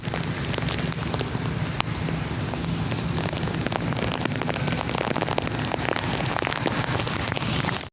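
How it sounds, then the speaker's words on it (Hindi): Heavy monsoon rain pouring down onto surfaces outdoors, a dense, loud and steady hiss of drops that continues unbroken, with no voices. "बहुत ज़्यादा बारिश हो रही है।"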